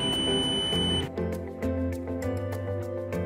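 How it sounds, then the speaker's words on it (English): A FIS AC7 fusion splicer gives a steady high electronic beep for about a second over a low machine hum, signalling its cycle is done, then stops while short clicks and humming continue. "an audible beep to let you know when it's done"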